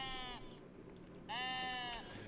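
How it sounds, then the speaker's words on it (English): Sheep bleat in the cozy building game Tiny Glade, two drawn-out, wavering calls separated by a short pause over a faint, quiet background. "Hello, sheep."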